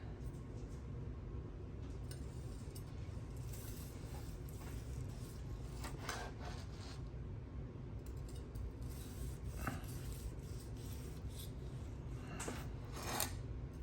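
A knife saws through grilled picanha beef against the grain, making soft rasping strokes under a steady background hum, faint and close, with no talk.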